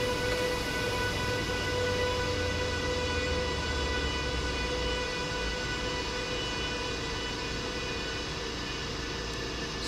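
An intercity train stands idling in a station in Train Simulator 2019, a steady loud mechanical hum with constant tonal whine and a low rumble that drops away partway through, with no talking.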